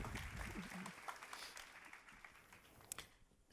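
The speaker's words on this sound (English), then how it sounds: "let's applaud and welcome with an applause," An audience at a talk in Borås applauds, giving a faint, steady wash of many hands clapping that fades slightly toward the end.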